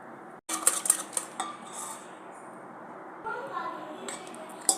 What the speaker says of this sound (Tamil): அதை மிக்ஸ் பண்ணிக்கணும்.